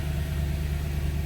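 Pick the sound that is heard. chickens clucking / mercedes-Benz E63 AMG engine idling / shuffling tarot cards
mercedes-Benz E63 AMG engine idling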